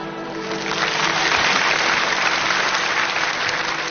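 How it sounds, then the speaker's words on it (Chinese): A studio audience at a televised game show claps in a dense, steady burst that holds at full strength for about four seconds, with no voices over it. "掌声送给孙飞"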